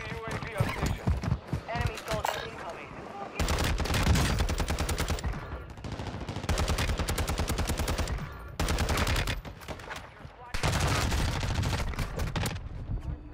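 Rapid bursts of automatic gunfire in the video game Warzone 2, several loud close volleys separated by short gaps, with a player talking over parts of the action.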